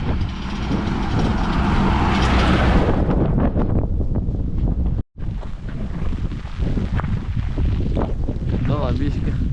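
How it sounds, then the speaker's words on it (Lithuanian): Strong gusty wind roars loudly across a microphone outdoors on a countryside walk near a small town, a continuous buffeting rush with a brief dropout midway. "Vėjuota, vėjas pūkos neša."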